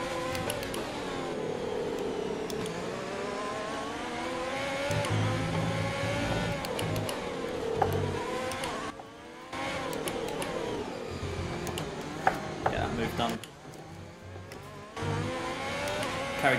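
Race car engine in the F1 2020 video game at the Spanish Grand Prix, a steady loud whine rising and falling in pitch through gear changes, with brief dips as the car lifts off, continuous throughout with no talk.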